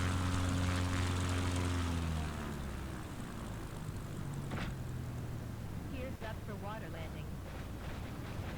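A propeller airplane engine in a flight simulator game drones loudly at first, then drops away to a quieter rumbling whoosh as the engine dies, with a person talking over it.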